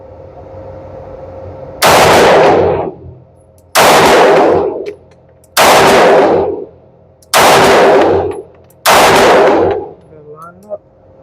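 Five loud gunshots from a ported Sig Sauer P320 xFive pistol, fired singly at a steady pace about two seconds apart, each with a sharp crack and a short ringing decay, close and clear with no talk over them.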